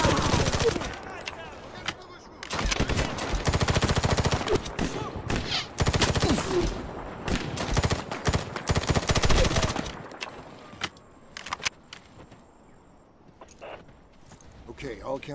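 Gunfire from the 2010 military shooter game Medal of Honor, loud dense bursts of shots and blasts through the first ten seconds, then scattered single reports fading out, with game voices talking over parts of it.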